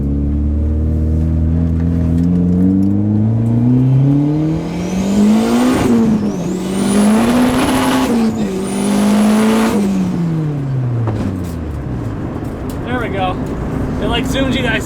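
Honda car after a clutch fork repair accelerating hard through the gears, engine revving up in rising sweeps with shifts, loud and close throughout.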